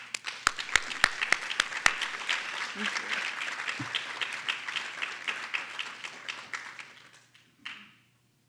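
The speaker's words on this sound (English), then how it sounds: "So let's give a round of applause to you." A room full of people clapping at a keynote presentation, loud and sustained for several seconds, with a few sharp claps at the start, then fading out; a brief voice comes near the end.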